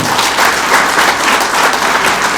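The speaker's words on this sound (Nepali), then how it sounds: "हामी सबै मिलेर उहाँलाई ताली बजाउनु" Loud, sustained applause from a large audience, dense clapping filling the whole moment without pause.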